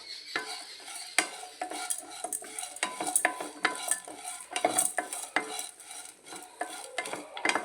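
Curry leaves dropped into a hot pan for a gooseberry and moringa-leaf dish, frying with a soft sizzle while a utensil scrapes and clicks in quick, uneven strokes. Close and fairly quiet, with no talking.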